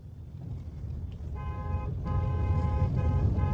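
A vehicle horn honks on a road with a sustained tone that starts partway through, breaks briefly, then resumes over steady engine and traffic rumble, loud and fairly close.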